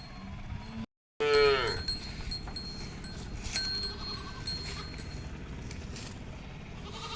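A single loud, close moo rings out near the start, followed by ambient farmyard rustling and shuffling.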